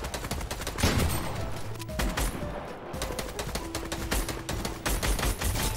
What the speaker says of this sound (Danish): Det var det sidste skud.